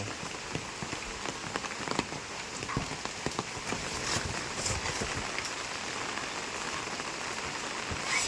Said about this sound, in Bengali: কালকে রাত থেকে ঝেঁপে বৃষ্টি হচ্ছে, ঝেঁপে বৃষ্টি।